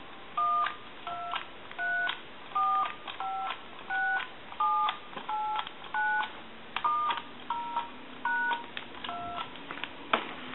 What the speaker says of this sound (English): I'm going to end in a 2, and I'm going to go ahead and try that again.